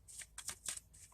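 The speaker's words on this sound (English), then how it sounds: "So I'm just shuffling the cards right now, real quick" Tarot cards are shuffled quickly by hand in a few crisp, riffling bursts, close and quiet, with short gaps between the flurries.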